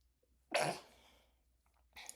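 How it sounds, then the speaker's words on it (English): A single sharp sneeze bursts out close by, followed by a trailing breath and a brief faint exhale. "I'm about to sneeze"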